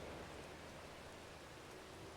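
Steady rain falls in the video game Final Fantasy X, a quiet, even hiss that runs unbroken for two seconds with no other sounds.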